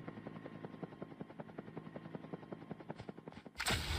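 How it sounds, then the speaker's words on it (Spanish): Rapid rhythmic thumping of helicopter rotor blades in a Call of Duty video game, steady and moderately close, ending in a sudden loud burst of noise. "Estoy escuchando un helicóptero, tío."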